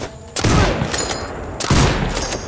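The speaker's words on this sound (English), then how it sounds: "Someone shooting us!" Gunfire in the video game Sniper Ghost Warrior Contracts 2, two loud, sharp bursts of shots about a second apart, each ringing out with a metallic tail.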